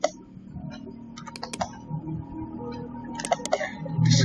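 Someone types on a computer keyboard during a university exam tutorial, with a scattering of separate key clicks and short quick bursts, close and crisp above a faint steady hum.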